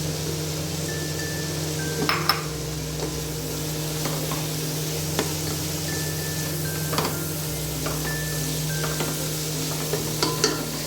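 Mint and coriander leaves sautéing in oil for prawn biryani, a steady low sizzle with occasional spoon scrapes and stirring clinks against the pan, no voices.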